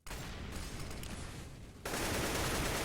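Rapid, sustained gunfire rattles through a Counter-Strike match on the Inferno map, with volleys of shots near the A bomb site, growing slightly louder toward the end.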